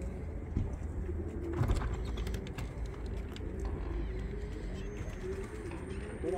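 Pigeons coo softly in a low, rolling rhythm, several repeated calls close by against a murmuring background with occasional clicks and brief voices.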